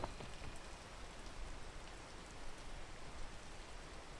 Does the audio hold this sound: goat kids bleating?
no